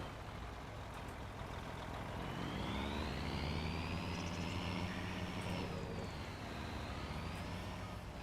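A truck engine in the video game Farming Simulator 25 drones continuously with a whining tone that rises and falls as it revs, steady and fairly loud with no talking.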